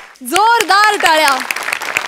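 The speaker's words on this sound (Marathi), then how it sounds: "जोरदार टाळ्या" Studio audience at a Marathi comedy stage show applauds while a loud voice whoops and calls out over the clapping for the whole stretch.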